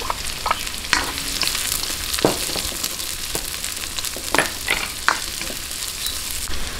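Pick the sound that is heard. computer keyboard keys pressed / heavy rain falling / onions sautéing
onions sautéing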